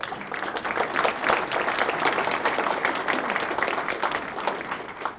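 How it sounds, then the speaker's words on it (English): Audience claps for a speaker at a panel event on the Texas border, a steady, moderately loud round of applause that holds across the whole stretch with faint crowd murmur. "Let's give a round of applause for Brandon Darby"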